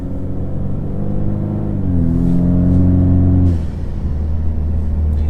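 Exhaust of a Ford Mustang EcoBoost with windows up, a loud close engine drone whose pitch steps down through downshifts before dropping away to a lower rumble.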